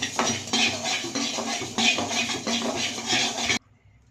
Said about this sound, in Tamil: அனல் கம்மியாக சிம்மில் வச்சுக்கிட்டு அடுத்தது வந்து கொத்தமல்லி கொத்தமல்லி சேர்த்து கொஞ்ச நேரம் வறுக்கலாம்